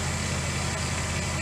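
Engine of a 1984 Dodge D350 truck running, a steady low idle rumble close by, even and continuous with no talk.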